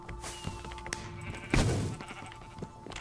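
Sheep bleat inside an arcade video game, several short electronic-sounding bleats scattered among game tones and thumps, one louder bleat partway through, with no talking.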